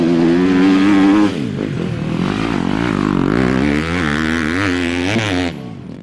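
Motocross motorcycle engine revving up and down in rising and falling sweeps, loud and close, with a rough mechanical buzz before it cuts off near the end.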